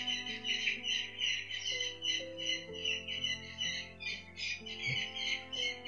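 Birds squawk and chirp in a steady, busy chorus over a low sustained hum, with no one speaking.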